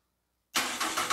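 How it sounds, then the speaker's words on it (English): Car engine starting after the starter motor is jump-started, an abrupt loud catch from silence that settles straight into a rough, steady idle close by. "And the car started now."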